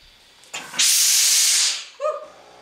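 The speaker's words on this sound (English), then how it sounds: "Now I can hear my iron sizzling." A steam iron gives a loud, close burst of hissing steam for about a second, then cuts off, followed by a short sputtering sizzle.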